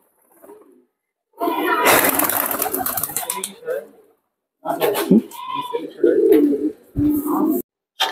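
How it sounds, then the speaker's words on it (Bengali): Pigeons in a high-flying pigeon loft coo and call in bursts at close range, with broad rustling noise and gaps of near silence between them. "আজকে আমার কিছু কবুতর আছে, আমি দেখাবো ভেজ আপনাদের।"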